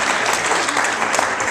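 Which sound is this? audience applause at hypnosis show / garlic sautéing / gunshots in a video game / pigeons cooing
audience applause at hypnosis show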